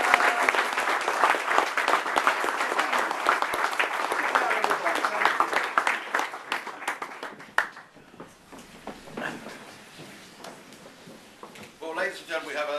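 Wedding guests applaud the newlyweds right after the ceremony pronouncement, a lively burst of clapping that gradually thins out, followed by scattered claps, shuffling and voices of people talking.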